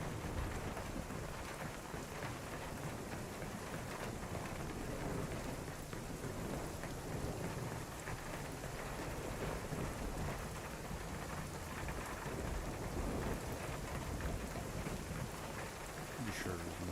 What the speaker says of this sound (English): I love their weather sound effects in the game. I really do. Just reminds me of a storm,